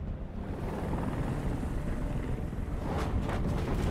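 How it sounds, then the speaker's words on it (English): Helicopter hovering over a rooftop in Detroit: Become Human, a steady, loud rotor wash and dense engine rumble filling the whole stretch with no break, wind-like and close. "Get the helicopter out of here."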